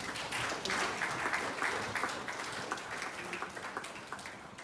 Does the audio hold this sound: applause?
yes